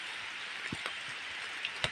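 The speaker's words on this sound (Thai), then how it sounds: "ฝนตกเลยทุกคน" Rain falls in a steady, even hiss, broken by a few nearby drops tapping on a surface, with no talk.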